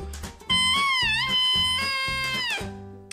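An oboe's bare double reed, two small pieces of wood tied onto a metal tube, played alone with no instrument body. It gives a thin, buzzy, squawking tone with wavering pitch and short stops and restarts, close and fairly loud.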